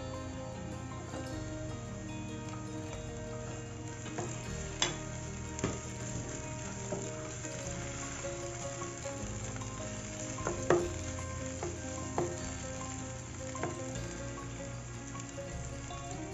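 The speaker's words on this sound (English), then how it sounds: "Now once that is fried, then put some peppers in there now." Bell peppers and spareribs sizzle steadily in a hot pan, with a constant frying hiss and scattered clicks of stirring, moderately loud and with no talking.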